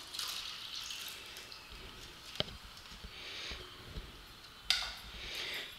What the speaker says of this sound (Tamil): அரைச்ச மாம்பழத்தை வந்து இந்த நான்ஸ்டிக் பேனில் எடுத்து ஊற்றிக்கலாம் தண்ணி நல்லா ஒரு கப் நிறைய சேர்க்கலாம்